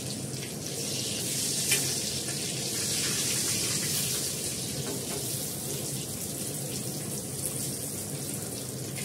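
Chutney simmering in a pan after a mustard seed tempering, a steady broad crackling sizzle that runs on evenly with no talk.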